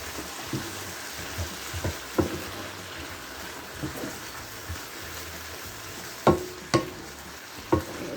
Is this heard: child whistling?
no